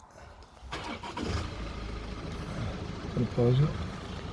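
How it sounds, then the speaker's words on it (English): A loud car passes nearby outdoors, its engine rumble swelling and holding steady, while someone briefly speaks over it. "we have to pause because there's a car being very loud and annoying"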